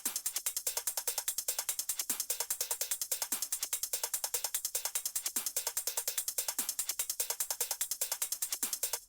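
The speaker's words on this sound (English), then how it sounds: "So these are all of the drums that I just use for added texture." Synthesized psytrance texture percussion loop, fast and steady ticking, crisp clicky hits in an even rapid pulse with occasional soft lower accents, quiet and alone.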